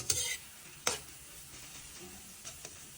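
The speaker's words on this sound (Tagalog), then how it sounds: "Dito muna magluluto ang inyong kusinero ng scrambled egg." Scrambled eggs with tomato and onion cooking in a pan, with two sharp stirring scrapes near the start and a couple of softer clinks later over a faint, steady sizzle.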